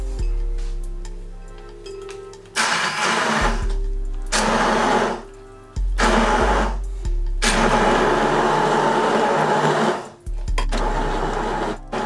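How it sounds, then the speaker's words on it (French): Chimichurri sauce with chili and a cup of water whirring in a blender, cut into loud bursts of spinning motor roar, the pitch rising and falling as it speeds up, separated by short pauses. "et on va mixer"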